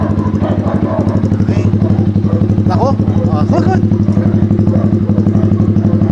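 A motorcycle engine idling close by with a steady pulsing, clattering rumble used to test a dog's nerve; someone speaks briefly over the continuous engine noise.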